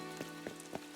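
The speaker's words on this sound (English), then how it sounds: "I don't know how long this rain will last" Rain falls in the video game Animal Crossing: New Horizons as a faint, soft patter. A few brief taps and drops stand out over the quiet background.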